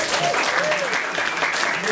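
Audience applause at a stand-up comedy show, a dense burst of clapping filling the room throughout, with some voices mixed in.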